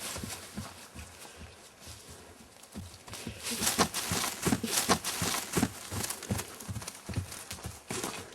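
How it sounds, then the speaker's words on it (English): A horse trotting and then speeding up, its hooves giving a quick, regular clip-clop that grows louder and denser over the clip, close by. "I'm going to do it with Dolly to show how easily she'll go into trot, and then faster and faster."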